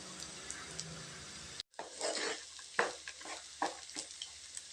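Dried red chillies sauté in hot oil with steady sizzling and scraping stir strokes, close and fairly quiet, briefly cut by a short silence before the frying resumes.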